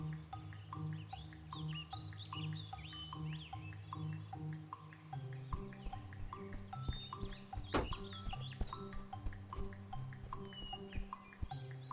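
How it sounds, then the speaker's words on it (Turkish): Small birds chirp and tweet in quick, scattered calls, fairly faint, over a low steady hum and occasional soft clicks. "kuş sesi."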